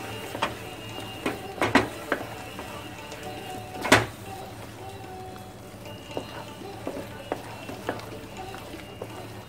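Moong dal halwa being stirred in a kadhai with cardamom powder mixed in: intermittent scraping and knocking of a spoon against the pan, a few sharper clacks among steady low kitchen hiss.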